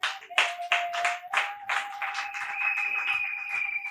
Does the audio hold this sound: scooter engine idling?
no